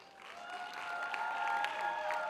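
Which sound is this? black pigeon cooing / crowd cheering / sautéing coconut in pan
crowd cheering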